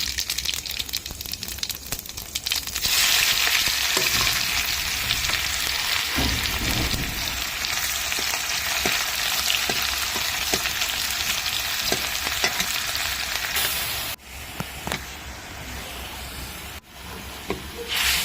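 Cumin seeds hit very hot oil and sizzle loudly and steadily, a dense frying hiss that dips briefly near the end, with no talking.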